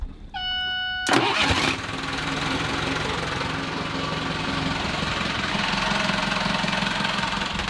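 A sailboat's marine engine cranks over on a swapped starter and catches, then runs steadily and loudly close by, its rough mechanical rumble continuing without talk.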